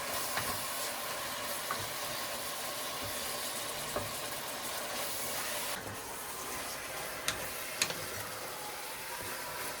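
Ground meat browning in a pan for lasagna, a steady hissing sizzle running throughout at moderate level, with occasional faint clicks and pops.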